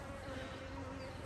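Honey bees hum steadily inside an opened hive during a weekly swarm inspection, a continuous low, even drone close by with no talking.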